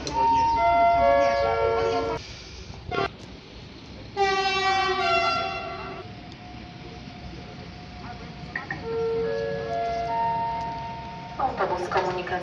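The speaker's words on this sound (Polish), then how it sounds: "przy peronie pierwszym przejdzie pociąg bez zatrzymania" A train passes straight through Łowicz Główny station in Poland without stopping, with a sustained loud rumble and horn tones, under a station announcement voice.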